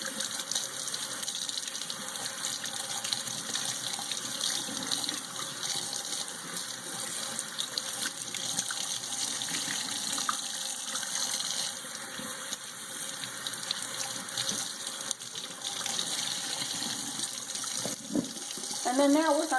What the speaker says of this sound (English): I just keep rinsing until I see that the water is kind of coming out clean